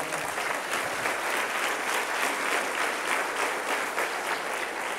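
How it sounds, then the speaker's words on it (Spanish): Church congregation applauding the Lord during a Spanish-language service, a continuous, even roar of many hands clapping throughout with no talk over it. "Dale un aplauso al Señor."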